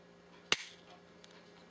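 A single sharp dry click from the single-stage 6.5-pound trigger of a Kimber Solo Carry 9mm pistol, close and crisp, followed by a faint small reset tick a moment later in a quiet room.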